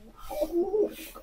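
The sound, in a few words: male pigeon cooing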